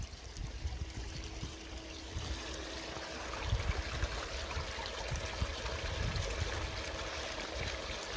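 A 1,100 gallon per hour pump feeds water into a sluice, producing a continuous gurgling, trickling flow with a faint steady hum underneath.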